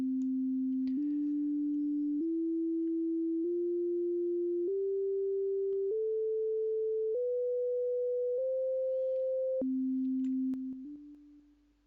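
A clean sine tone steps upward in pitch through several steady stages, then drops back low and fades out.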